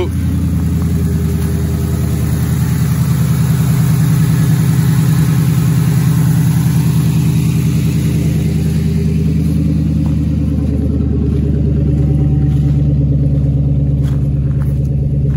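A Ford Crown Victoria engine runs loud and steady with a deep rumbling idle that holds throughout, rising slightly in revs toward the end, with talk over it.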